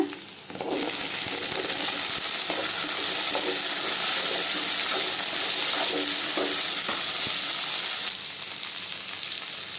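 Jackfruit seeds fry loudly in a hot pan, a steady hissing sizzle running nearly the whole time with soft stirring knocks underneath, then easing slightly at the end; no talking.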